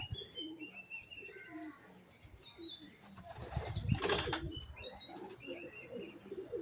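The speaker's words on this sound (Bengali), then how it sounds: "এটাও আপনার বেলজিয়ামের পায়রা" A female Belgian racing pigeon beats its wings in a brief, loud burst of flapping close by. Soft cooing and chirps from other pigeons continue around it in a quiet loft.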